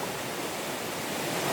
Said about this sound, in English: I'm going up to the waterfall.